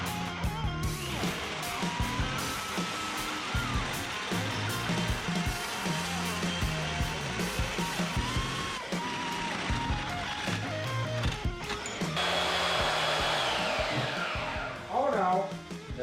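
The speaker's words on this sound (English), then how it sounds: "That bandsaw is really freaking loud." A bandsaw cuts through a custom drive shaft for a 600cc 4x4 off-road crosskart buggy. It makes a loud, continuous grinding whine that runs throughout, shifts in tone and intensity near the end, and comes close up with no clear talk.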